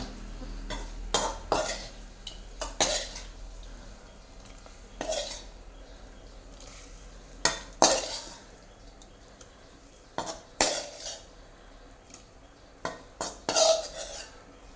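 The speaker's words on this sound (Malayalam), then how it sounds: "ഇനി ഇതിലേക്ക് മീനിടാൻ പോവാണ് നമ്മൾ" Fish pieces, including the head, go into a pot of boiling spicy fish curry: scattered clinks and knocks of a utensil against the pot, several sharp clatters spread across the stretch with quiet gaps between them, and no talking.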